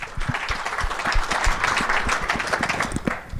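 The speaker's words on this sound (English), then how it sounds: "A big round of applause." An audience at a motorsports country club conference session claps steadily, dense continuous applause close by with no speech.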